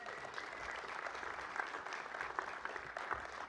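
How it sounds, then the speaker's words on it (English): Audience at a university athletics Hall of Fame ceremony applauds steadily, a dense wash of clapping holding an even level throughout, fairly distant and without speech. "So I think Alice also deserves a round of applause."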